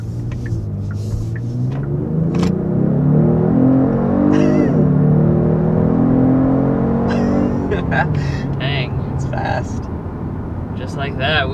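A 2022 Genesis G70 Sport with the 3.3 twin-turbo V6 accelerates hard, its engine note climbing steadily through the gears as a loud, close rumble, then easing off, with a person talking over it.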